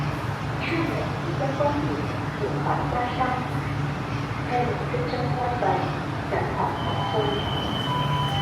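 A metro train in China pulls into a station and then departs, giving a steady, continuous rumble of wheels and carriages close by, with voices talking over it throughout.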